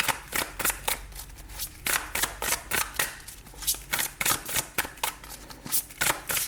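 Tarot cards are shuffled by hand, giving a rapid run of crisp, close riffling and flicking bursts that repeat steadily throughout.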